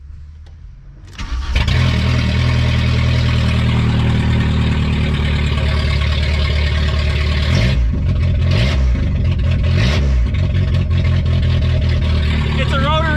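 A VW Golf 3 with a 1.8T engine swap starts up and runs very loud, a deep rumbling idle right up close with a few sharp revs near the end, while people talk over it.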